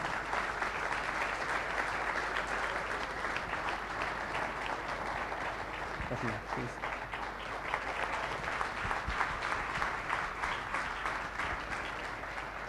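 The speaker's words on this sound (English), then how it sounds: "Ladies and gentlemen, big round of applause for Miss Manisha Koirala." At the 2016 Yi National Summit, a large hall audience gives Manisha Koirala a sustained round of applause. The thick, unbroken clapping stays strong for over twelve seconds with a few low thumps mixed in.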